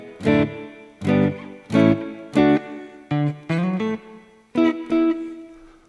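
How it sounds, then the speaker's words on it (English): Electric guitar played through the Flick effects pedal (Daisy Seed / Hothouse) with its reverb high cut opened up for a brighter tone: a run of eight plucked notes and chords, each ringing with a shimmering tail, close and moderately loud with no talk. "So if I crank these way up, it'll be a lot more bright in the reverb."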